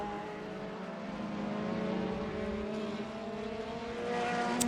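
Race cars roar down the straight at Road America in a racing video game, several engines droning together in a steady, sustained whine that rises slightly in pitch and grows louder toward the end.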